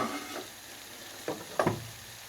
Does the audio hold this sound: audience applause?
no